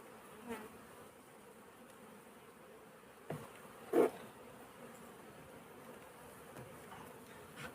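A honeybee colony hums with a steady, dense buzz during a hive inspection, with a few brief close bumps and knocks breaking through the drone.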